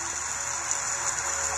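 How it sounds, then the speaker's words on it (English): Steady rain falls in the Roblox game Bloxburg, a constant even hiss that fills the scene without pauses or other sounds. "See, it's raining out here."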